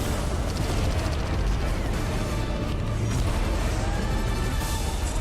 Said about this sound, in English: Do you like explosions?